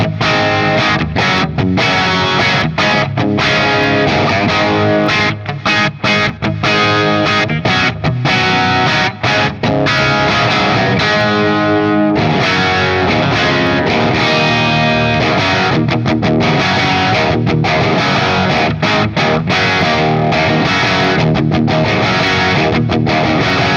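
Marshall Studio Classic SC20H amp on its plexi channel, an electric guitar driven into crunchy distortion, playing a steady stream of strummed chords and riffs, loud and continuous with no talking.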